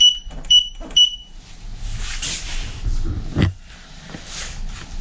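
A KS16X battery charger gives a few sharp high beeps at the start, followed by rustling handling noise and a soft thump.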